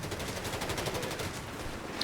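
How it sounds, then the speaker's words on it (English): Machine gun fire in the WWII strategy game Company of Heroes 3, a dense, rapid rattle of shots running steadily through the whole stretch, loud and close. "Machine gun out the back there as well."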